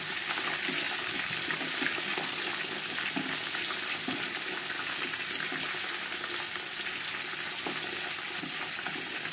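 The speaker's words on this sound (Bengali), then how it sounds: "এই যে রান ভাজতে দিয়ে দিচ্ছি" Pieces of beef leg sizzle and spit steadily in hot oil in a pan at home for an Eid meal, a continuous close crackling frying sound with faint stirring, no talking.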